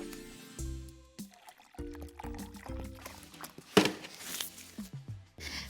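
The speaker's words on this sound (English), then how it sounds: "fill a big jar or vase or tank about 2/3 full of water" Water poured into a big jar, a bubbling, gurgling fill that comes in several bursts with short pauses, then rises in pitch and splashes near the end, close and moderately loud.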